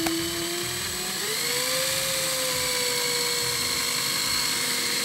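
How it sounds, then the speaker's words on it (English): A power drill twisting coil wire whines continuously at a steady high pitch, stepping up slightly in speed after a second and holding, loud and close. "As soon as you start the drill"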